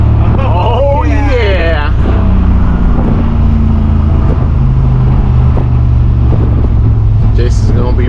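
A Ford Foxbody car engine drives and accelerates, a loud steady rumble running under the whole stretch while someone talks over it.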